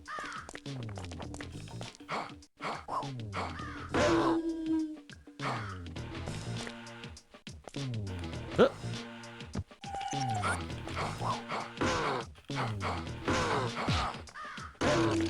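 Crows caw repeatedly in a video game, harsh calls recurring steadily over roughly fifteen seconds amid game sounds, with a dog-like howl blended in.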